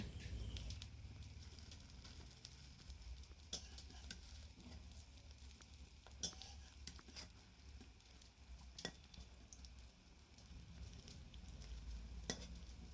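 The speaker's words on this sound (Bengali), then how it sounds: "এবারে বড়াগুলো আমি উল্টে দিচ্ছি।" Fish roe fritters frying in a pan as they are turned over, a soft steady sizzle with faint scrapes and taps of the utensil, quiet and close, no talk.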